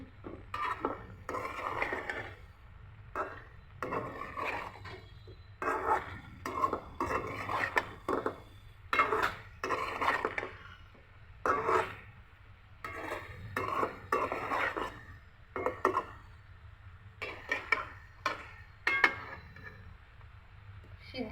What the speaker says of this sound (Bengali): কাঁচা লঙ্কা আমার নেড়ে দিচ্ছি